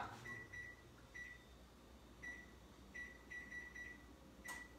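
Short electronic beeps from an oven control panel as it is set, sounding alone in single and double chirps at irregular intervals over a steady low room hum.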